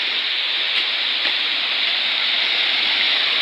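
Water rushes steadily into a barangay water tank through a newly connected line, making a constant, close, hissing splash with no voices.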